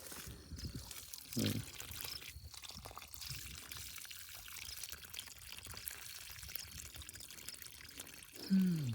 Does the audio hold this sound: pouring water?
yes